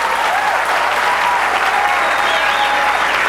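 Crowd applauding and cheering after a made shot at a pool tournament semifinal, a dense, loud, sustained wash of clapping that never lets up.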